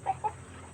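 Two short, soft clucks from a three-month-old Mardi free-range chicken close by, followed by a quiet stretch of low background noise.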